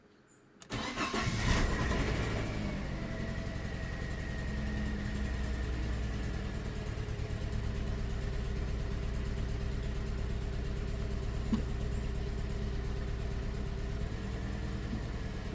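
A Ford Ka Limited Edition 1.2 with a misfire cranks briefly and fires up, then settles into a loud, close, slightly uneven idle that continues steadily with no talking.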